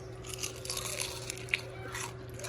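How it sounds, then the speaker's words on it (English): One sharp crunch of a bite into a fried Philly cheesesteak eggroll, set against steady low kitchen hum and soft chewing noise, close and fairly faint, with no talking. "Hear that crunch?"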